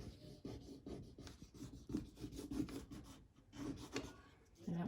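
Soft, close rubbing on folded paper to transfer a butterfly drawing to the other side, a quiet continuous scratchy rasp with short pauses and no talk.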